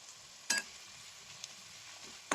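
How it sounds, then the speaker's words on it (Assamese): Ginger garlic paste frying with softened onions in a pan, a faint low sizzle punctuated by a couple of brief, louder scrapes of a spatula, quiet and with no speech. "এতিয়া মই আদা নহৰু পেষ্টখিনি দি অলপমান ফ্ৰাই কৰিম।"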